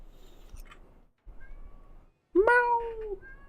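A cat meows once, a loud rising-then-falling cry that rings out clearly after quieter stretches of low background hum.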